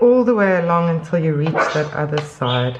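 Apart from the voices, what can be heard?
small dog yapping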